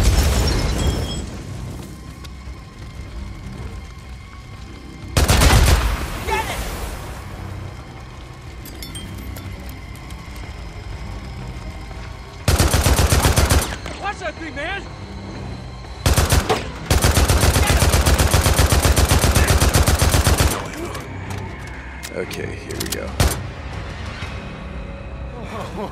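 Gunfire in the video game Days Gone during a fight with a rager bear: loud bursts of automatic fire and single shots break out repeatedly among booms and growling action, with shouted voices in between.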